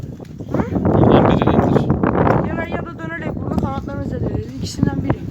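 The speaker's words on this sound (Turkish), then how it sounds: "Bugün arkadaşlar çok rüzgar var" Strong wind buffets a balcony where pigeons are kept, a steady broadband roar rising and falling close to the microphone while people talk over it.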